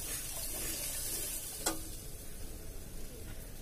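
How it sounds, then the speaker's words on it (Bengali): A little water goes into a hot cooking pan with fried onions and spice paste. A soft, quiet sizzle and wash of liquid is broken by one sharp clink midway. "এবার এর মধ্যে দিয়ে দিচ্ছি অল্প করে জল"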